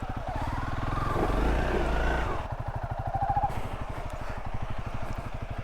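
A motorcycle engine idles and chugs close by while the rider turns around on a slope, with a steady low rhythmic thrum, a brief louder rev early on, then a return to idle.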